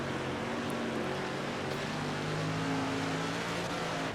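Sprint cars race on the Cedar Lake dirt track during the final lap in the World of Outlaws game. Their engines make a steady, droning roar with a constant whine and no interruptions.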